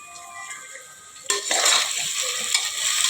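Mixed toor and moong dal and rice for khichdi go into the pan and start to sizzle. A quiet stretch gives way suddenly to loud frying and stirring scrapes, up close.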